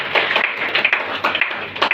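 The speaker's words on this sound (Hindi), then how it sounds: "स्वर्गीय श्री के अग्रवाल सर को जोरदार ताली बजाइए" A brief burst of audience applause at a DXN business gathering, dense overlapping hand claps with an uneven rhythm, loud and close throughout.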